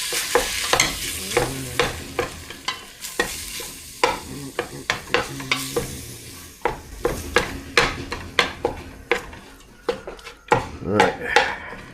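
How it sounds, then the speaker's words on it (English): Minced meat fries in a pan while a utensil repeatedly scrapes, jabs and clacks against the metal to break it up, an irregular run of sharp knocks over a steady sizzle, with occasional brief voice. "Just break up the mince."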